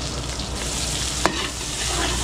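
Garlic and onion sautéing in a pan, a loud, dense, unbroken sizzle up close with a single sharp utensil knock partway through.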